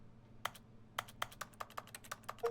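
Keyboard key-press sound effects from the video game The Stanley Parable, played as E is spammed: a string of about a dozen crisp, separate clicks at an uneven quick pace, fairly close and clear over a low steady hum, with no talk.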